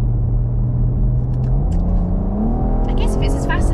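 An Audi RS4 Avant accelerates hard, its engine note rumbling and then climbing steadily in pitch as the revs rise, loud and close from inside the car.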